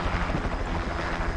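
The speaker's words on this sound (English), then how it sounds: "All right, let's go for a helicopter drop." Helicopter rotor drone in a video game, a dense low rumble with airy wash, steady and fairly loud for a brief moment.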